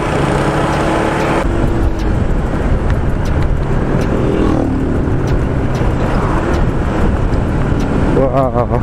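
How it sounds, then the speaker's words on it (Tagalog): Road traffic around a Honda PCX 160 scooter-style motorcycle on a ride toward San Jose, Tarlac: a steady, loud engine and road rumble with wind buffeting throughout, other vehicles passing, and a person talking over it. "Traffic lang tayo dito."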